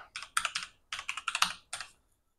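Quick typing on a computer keyboard, two short bursts of close, crisp key clicks separated by a brief pause, with nothing else heard.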